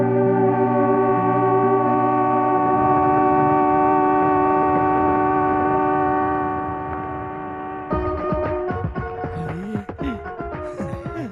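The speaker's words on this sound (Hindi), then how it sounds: "अरे शिवदत्त, जिधर देखो आदमी ही आदमी और ट्रेन ही ट्रेन नजर आ रही है" Trains at a busy city station: a sustained horn-like tonal drone with steady harmonics, then from the middle a clattering mix of rail noises and shorter tonal blasts, loud and close with no talking.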